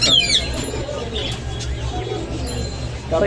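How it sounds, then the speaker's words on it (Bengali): Soft, low pigeon coos repeat at a bird market, over a steady background hum, with faint chirps and a murmur of voices nearby. "এটা গেন্দা কবুতর"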